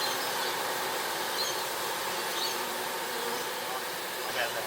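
Bees swarming inside a box produce a thick, constant droning buzz, even in level and close, with no distinct events and no voices.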